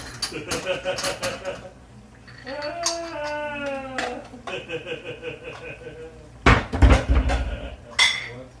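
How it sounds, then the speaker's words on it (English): A metal spoon clatters and scrapes around a cooking pot in a home kitchen while dinner is made, with louder clanks near the end. People talk and laugh throughout. "It's stirring the pot."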